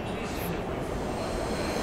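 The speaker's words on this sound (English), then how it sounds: "This is my train." A New York City subway train rumbles close by, a loud, continuous roar of wheels and carriages with faint high squeal, filling the whole moment without pause.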